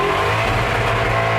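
Small mini bike engine bouncing off the rev limiter after a minor tune-up, a loud, steady, close buzzing drone held at high revs.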